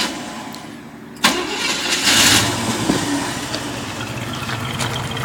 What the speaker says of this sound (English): Dual exhaust sounds great.